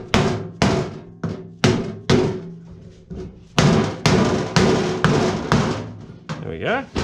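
A hammer strikes a Land Rover door skin panel being shaped from sheet metal, roughly a dozen sharp, ringing blows close by in an irregular rhythm, each clang decaying quickly.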